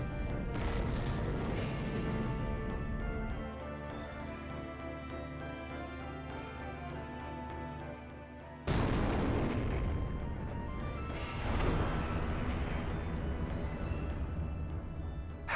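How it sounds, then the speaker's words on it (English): Heavy cannon fire in the video game Robot Alchemic Drive, a dense sustained roar of booming blasts and crashes, with a sharp louder burst partway through, no talk over it. "Cannon."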